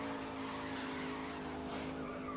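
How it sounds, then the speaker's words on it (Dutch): A race car drifts in GRID (2019), engine droning steadily at high revs while the tires squeal in a sustained, wavering screech, close and continuous. "Hij drift lekker, ja."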